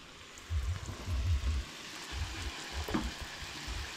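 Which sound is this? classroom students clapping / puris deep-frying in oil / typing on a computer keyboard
puris deep-frying in oil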